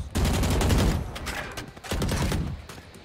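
Shotgun blasts in Valorant, a dense run of loud, close gunfire bursts with brief pauses, sounding like rapid overlapping shots rather than single spaced reports.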